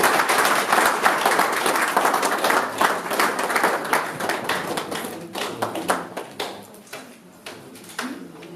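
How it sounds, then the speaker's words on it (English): Audience applause at an Esan Cultural Forum Italy investiture ceremony, dense clapping from a crowd that holds steady for several seconds, then thins into scattered claps near the end. "Please give her a round of applause."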